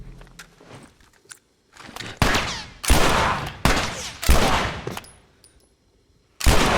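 Pistol shots from The Last of Us, several sharp loud cracks in irregular succession with brief gaps between bursts, close and without talk.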